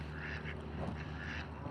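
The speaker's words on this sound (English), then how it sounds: "a duck showdown behind us." Several ducks quack and squabble in a noisy, scuffling tussle nearby, with a steady background hum underneath.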